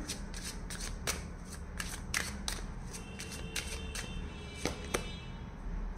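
A deck of tarot cards being shuffled, with a steady run of crisp riffling flicks and taps over a faint background hum, close by and without talk.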